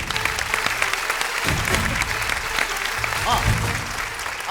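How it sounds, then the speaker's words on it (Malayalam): Audience applause in a comedy show studio, a dense, sustained patter of many hands clapping at an even level with a brief dip partway through. "അപ്പൊ നല്ലൊരു ക്ലാപ്പ് കൊടുക്കും."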